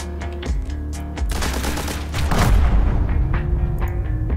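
Dual SMGs firing in The Hong Kong Massacre, a Max Payne–style shooter: rapid automatic bursts with booming impacts, swelling louder and denser midway and continuing to the end, no talk.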